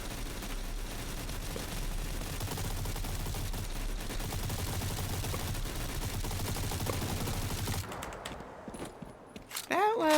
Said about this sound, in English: Oh, there's a lot of gunfire here.